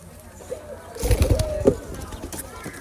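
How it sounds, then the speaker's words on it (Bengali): A captive dove gives a few short, deep coos close by, bunched together in the middle, over a quiet background with a voice nearby. "ওদেরকে দেখেই আমাদের আগের ঘুঘু পাখিটা ডাকাডাকি শুরু করে দিছে।"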